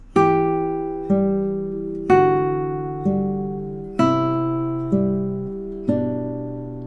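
Plucked guitar notes picked one at a time in a slow, even passage, each note ringing and decaying before the next, with no voices.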